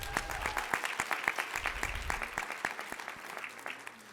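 An audience at the GAAR and SWMLS annual meeting bursts into applause, a dense patter of claps that starts strong and gradually thins and fades over a few seconds.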